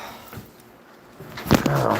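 A dog gives a short, close whine or yelp near the end, following quiet room noise and a faint earlier thump.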